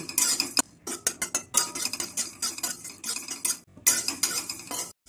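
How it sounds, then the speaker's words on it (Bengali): Whole spices (a spice piece, mace, coriander, cumin, cloves and small cardamom) are dry-fried and stirred in a wok, producing rapid scraping and clinking strokes of a utensil against metal in uneven bursts with brief pauses. "কড়াইয়ের মধ্যে দিয়ে দিয়েছি একটা টাড়া মশলা, একটা জয়িত্রী, ধনে, গোটা জিরে, 3টে লবঙ্গ, 2টো ছোটো এলাচ। আমি এগুলো সব ভেজে নেব।"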